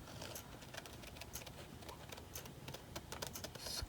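Scissors snip out a small paper square for a collage, giving a faint, close string of quick crisp cuts and paper rustles with no talking.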